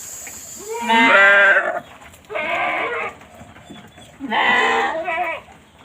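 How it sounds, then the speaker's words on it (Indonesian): A Sopas goat bleats three times, loud and nearby, each call a long wavering cry separated by short pauses. "Nah, ini kambing sopasnya."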